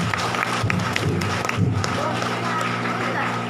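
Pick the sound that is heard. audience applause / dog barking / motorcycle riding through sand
audience applause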